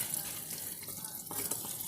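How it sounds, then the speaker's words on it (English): Water runs from a hose into a compact portable twin tub washing machine, a soft steady hiss and trickle of filling water heard close but quiet, with no talk. "you can see the water is filling up the washing machine"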